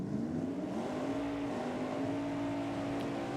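A Holden Commodore drag car with a 6-litre Chev motor launches hard at a drag racing night, its engine a loud sustained roar holding a steady pitch before easing off, heard from a distance with no voices.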